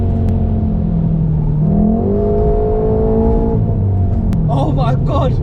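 A 2015 Volkswagen Golf R MK7 with a DSG gearbox accelerates hard, the engine note climbing steadily through gears from inside the cabin, loud and continuous, with excited voices breaking in near the end.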